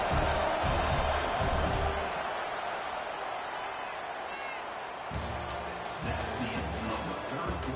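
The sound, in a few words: stadium crowd making noise to distract the kicker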